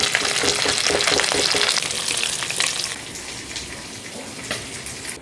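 Pieces of katla fish fry in hot oil with a loud, dense, close crackling sizzle that eases somewhat after a couple of seconds but keeps bubbling, with no speech.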